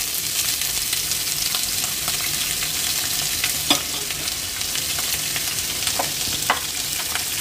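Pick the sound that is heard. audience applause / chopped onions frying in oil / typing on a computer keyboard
chopped onions frying in oil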